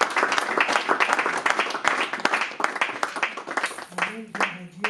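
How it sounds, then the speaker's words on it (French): A church congregation claps together in steady, fairly loud applause, with voices calling out over it and a brief sung or spoken tone near the end. "On acclame pour la gloire du Seigneur."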